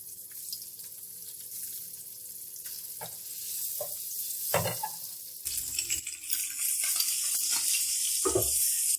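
Eggs fry in a spoonful or so of oil for a dhaba-style egg masala curry, starting as a quiet hiss that swells into a louder, steady sizzle with occasional pops.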